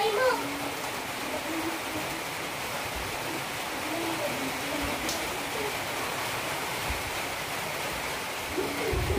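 Heavy rain pours steadily outdoors as a constant, even hiss throughout, with a person's voice faintly audible beneath the downpour.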